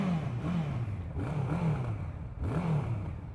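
A Honda CB1100 RS motorcycle's exhaust as it decelerates, a loud close engine drone with a wavering low tone, with faint popping on the overrun.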